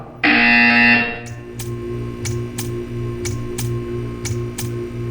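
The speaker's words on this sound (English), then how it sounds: "You will hear a buzzer." Loud alarm-like buzzer tone in the video game Portal 2 sounding for about a second, followed by steady rhythmic ticking over a low machine hum.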